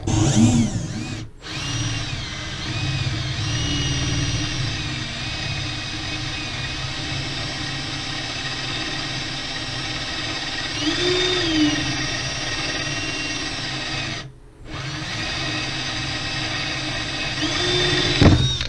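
A drill whines continuously nearby while tapping holes in a sample piece, its motor tone wavering as it bites, cutting out briefly twice before spinning back up.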